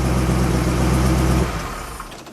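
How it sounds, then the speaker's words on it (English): A 1968 Shelby GT500KR Mustang convertible with the 428 Cobra Jet V8 revs hard and close, a loud, deep roar held for over a second before falling back to a rumbling idle. "Go ahead, give it a rev. The mighty mean Mustang."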